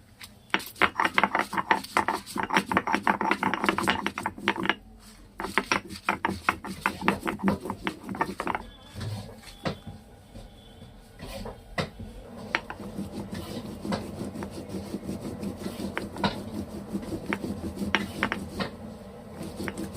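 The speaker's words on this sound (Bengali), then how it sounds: "এবার আমি লঙ্কাগুলো বেটে নেব।" Chillies are crushed into paste on a flat grinding stone, giving repeated rasping, scraping strokes in a brisk rhythm, up close, with brief pauses between bouts.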